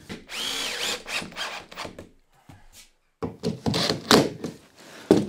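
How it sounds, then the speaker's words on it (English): A power drill drives screws into a workshop door frame in several short whirring bursts with pauses between, close and fairly loud, with a few thunks of the tool against the wood. "what I am going to do is run a series of screws around the outside, locking it into place."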